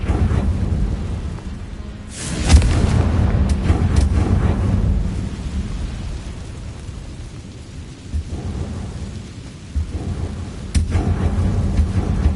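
Confringo fire spell blasts in Hogwarts Legacy gameplay, a loud rumbling burst near 2.5 seconds rolling into a long, dense crackling roar, with another sharp blast near 11 seconds.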